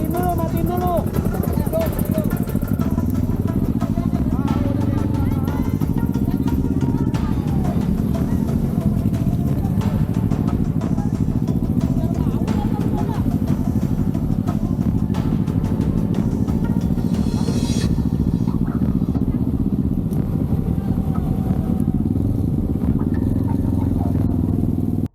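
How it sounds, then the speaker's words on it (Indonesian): Several motorcycles lined up at a street race gathering rev their engines with open throttle, a loud continuous drone and rising revs close by, with people talking over the noise. "Karena di situ ada berjejer beberapa motor yang udah mulai open throttle atau buka gas."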